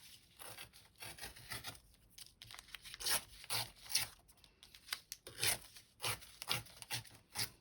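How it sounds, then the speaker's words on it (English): Playing card paper ripped by hand along a ruler, a series of rough tearing and rasping strokes that come close and fairly loud over several seconds, with no talking. "I'm just going to rip down my ruler."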